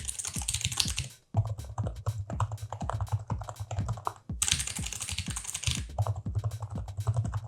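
Rapid, close clacking of keys on a Hawk mechanical gaming keyboard, in dense bursts of keystrokes with a brief pause between runs and no talking.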